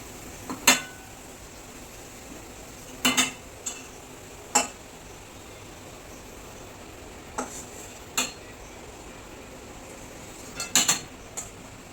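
A spoon scrapes and taps against a pan while scooping ground spices, including cumin, into a mixer jar, giving sparse, quiet metallic clinks scattered over about twelve seconds.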